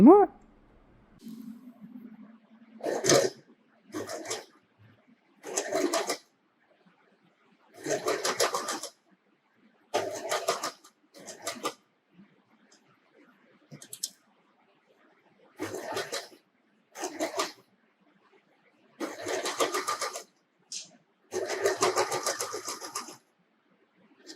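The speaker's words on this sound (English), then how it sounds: "So now we take it on the sewing machine and we stitch very close to the edge" A sewing machine stitches close to a fabric edge in repeated short bursts of rapid mechanical whirring, separated by quiet gaps, near and fairly loud.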